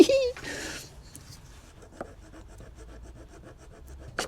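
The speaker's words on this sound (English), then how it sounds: "Right, fucking hacksaw." Hacksaw cutting through a snapped clip while removing the engine from an abandoned Golf GTI: a brief voice at the start, then quiet rhythmic back-and-forth scraping strokes, close and fairly faint.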